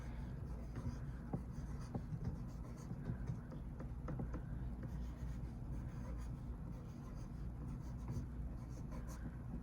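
A picture being drawn by hand to work out a fraction division problem: soft, scratchy pen or marker strokes and light rubbing continue throughout, close and faint over a low steady hum.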